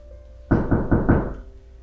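Four quick firm knocks rap on a house door in a steady rhythm, close and loud against a quiet room, then fade out.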